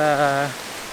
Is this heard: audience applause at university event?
no